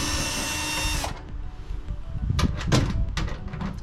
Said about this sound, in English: After ratcheting, we went round with a drill to save time.